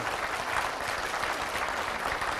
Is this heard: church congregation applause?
yes